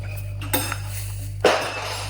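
A spoon mixing vegan donut batter in a bowl gives two clear clinks of metal against the dish over a steady low hum, with no talk.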